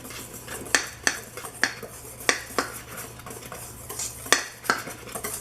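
A whisk clinks against a bowl while mixing baking ingredients, a series of irregular sharp metallic taps and scrapes, close and fairly clear with quiet pauses between strokes.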